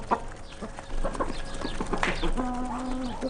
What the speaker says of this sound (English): While Marina, the daughter, feeds the chickens and ducks, Larissa searches for the eggs.